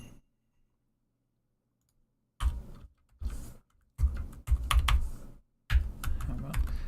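Bursts of rapid clicking keystrokes on a computer keyboard while typing Kotlin code, close and moderately loud, separated by short pauses after a quiet start.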